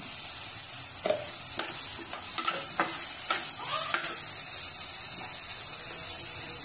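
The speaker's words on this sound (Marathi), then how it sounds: "फ्राय केलेल्या भाज्या आपण आता याच्यात टाकून घेऊ" Fried vegetables tipped into a hot pan for spiced rice sizzle steadily while a spoon scrapes and stirs in several quick strokes, the hiss continuing evenly throughout.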